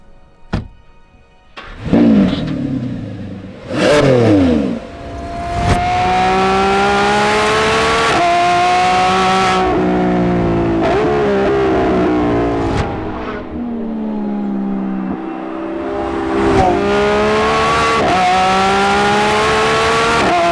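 A Lamborghini Revuelto's naturally aspirated V12 roars loud and near during a test drive, revving repeatedly through rising and falling pitch sweeps with sharp gear-change breaks and bursts of acceleration.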